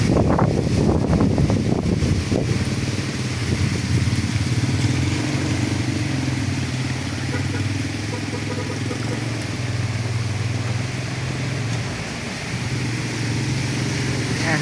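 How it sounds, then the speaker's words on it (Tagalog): Strong gusting typhoon wind roars across the microphone in a dense, continuous rush, with a low vehicle engine rumbling underneath throughout. "talagang malakas na ang hangin,"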